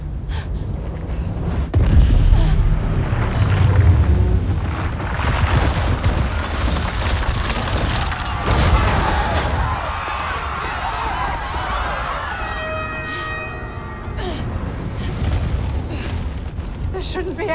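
Heavy booming explosions in the Marvel's Spider-Man: Miles Morales video game, loud rumbling blasts that rise and fall over many seconds, with talking over them.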